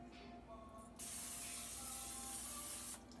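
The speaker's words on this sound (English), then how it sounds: "We're going to give them a little spritz with some pan spray." A can of cooking pan spray mists potatoes on a tray before they go in the oven, one steady two-second hissing spritz, close and clear, over a faint background hum.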